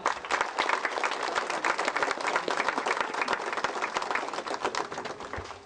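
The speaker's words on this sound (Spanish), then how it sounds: "vamos también a darle un caluroso y fuerte aplauso a nuestros amigos y compañeros regidores" Steady, dense applause from an audience at a municipal ceremony where the mayor of Pacora signs education, housing and transport agreements, sustained and fairly loud with no talk over it.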